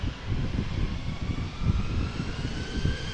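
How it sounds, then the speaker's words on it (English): A KLM Embraer 175 jet at Amsterdam Schiphol Airport gives a steady, loud low engine roar that swells and rumbles continuously, with no voices over it. "Embraer 175, KLM flight"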